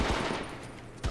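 A rapid burst of assault rifle fire in the H-Hour video game, several quick shots run together at close range, followed by one more sharp report near the end.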